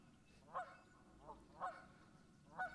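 Geese honk on a river, three loud calls spaced about a second apart with a fainter call between them, over a quiet background.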